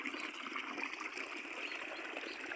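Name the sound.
water flowing from detached pipe, motor running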